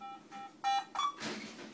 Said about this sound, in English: It'll start beeping quietly.